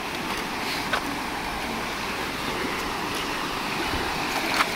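Rushing water of the Rio Bravo during a river crossing makes a continuous broadband wash with wind noise, steady and fairly loud throughout, with no voices.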